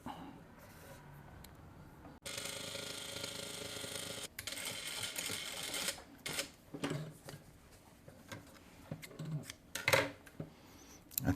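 A Vevor M2 sewing machine stitches welt or piping along an edge. A loud run of motor and needle hum comes first, then softer bursts and clicks of fabric handling with pauses, and no talking.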